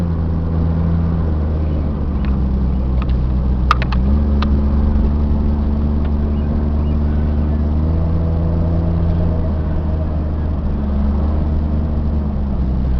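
A 1997 Jeep Cherokee Laredo with a six-cylinder engine, 4x4 in two-wheel drive, runs at a steady low drone from inside the cabin, with a couple of brief clicks and a slight shift in engine pitch partway through.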